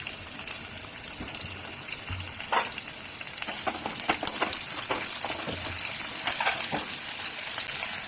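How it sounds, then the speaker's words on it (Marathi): Raw ginger frying in lightly heated oil for a teardrop-gourd (kartule) vegetable dish, a steady close sizzle with scattered pops and brief clinks throughout, no talking. "पटोल्याच्या भाजीसाठी आपण पहिल्यांदा तेल तापवलेलं आहे थोडंसं आणि याला थोडंसं अदर कच्चं आपण शिजून घेणार आहे"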